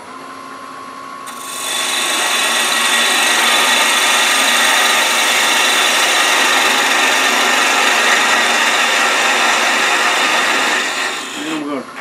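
A wooden hot air balloon ornament being turned on a lathe with a parting tool gives a steady, loud scraping whir that runs unbroken for about ten seconds before easing off near the end.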